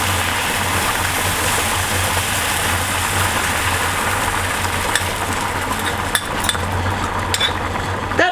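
Onions sizzle and fry in a hot pan, a steady, dense hiss that runs unbroken throughout, with a few faint clinks near the end.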